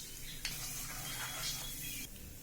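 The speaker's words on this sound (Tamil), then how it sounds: "இதில் கொஞ்சமாக கடலைப்பருப்பு நமக்கு தேவையான அளவுக்கு ஒரு 2 கை போட்டுறேன்னா." Chana dal going into hot oil with mustard seeds in a pan, giving a steady close sizzle with a brief stir or clink near the start, no talking.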